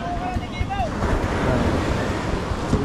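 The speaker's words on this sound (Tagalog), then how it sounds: "Ano makas ang alon ano?" Ocean waves break and wash continuously in rough surf, heard close with heavy wind buffeting the microphone, while a few faint voices come through briefly at the start.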